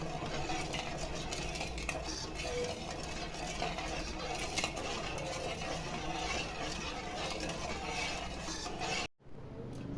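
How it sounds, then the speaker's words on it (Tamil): Sugar is stirred into a wheat-flour gulab jamun mixture, giving steady scraping and clinking of a spoon against a vessel, faint and continuous, with a brief dropout near the end. "நல்லா சர்க்கரை கலக்கலாம்."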